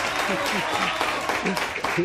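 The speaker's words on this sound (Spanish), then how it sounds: "aplaudan esto más fuerte, por favor, hijos míos." Studio audience applause at a Spanish TV interview show, a dense crackle of clapping sustained for a couple of seconds with someone speaking over it.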